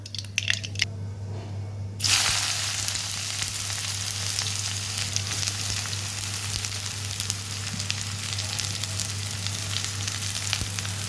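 Chopped bitter gourd hits hot oil with popped mustard seeds for a stir-fried poriyal, a loud, steady sizzle that starts abruptly after a brief quieter moment and keeps crackling evenly with no one talking.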